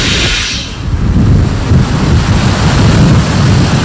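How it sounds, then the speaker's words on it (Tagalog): Strong typhoon wind roars in a continuous loud buffeting rush against the microphone as Super Typhoon Haiyan (Yolanda) strikes Santa Rosa, Laguna, Philippines, with no voices heard. "nakakaranas pa rin tayo ng napakalakas na hangin"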